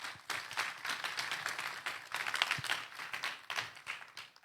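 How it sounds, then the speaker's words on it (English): A seminar audience claps in steady, sustained applause of many hands, moderately loud and continuous for several seconds. "Could we please clap for Crema Africa?"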